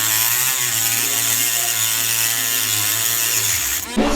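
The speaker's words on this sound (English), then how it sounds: "I have a Dremel. I'm going to try to grind a slit in them and make them like a flathead" A Dremel rotary tool grinding a slit into a steel security bolt on a car during a 1JZ engine swap into an E36. A loud, close, steady high-pitched whine holds for about four seconds, then cuts off abruptly.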